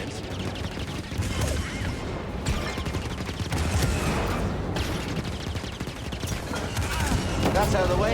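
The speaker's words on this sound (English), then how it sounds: "So that fires the cannons." Ship cannons firing in the video game Star Wars Jedi: Fallen Order, a rapid barrage of loud blasts and crashing impacts that rolls on throughout, with bursts of game noise mixed in.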